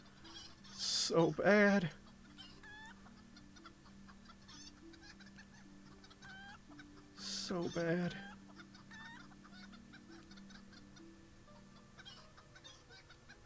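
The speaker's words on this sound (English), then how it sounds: "now it's 2 chicken call sounds" Chickens give short clucking calls in two bursts near the start and around the middle, fairly close, with a quiet steady hum and a person speaking briefly.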